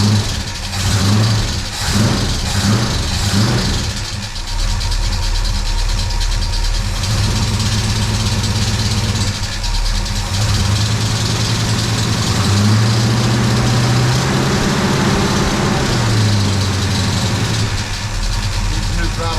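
A 1968 Chevy C-10 truck engine idles after a motor swap, a loud steady low rumble with a few brief throttle blips and rising revs, as someone talks over it intermittently.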